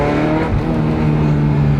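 Ferrari 355 with a 375-horsepower V8 accelerating hard, a loud, dense, rising engine roar heard close up and continuous, with no voices over it.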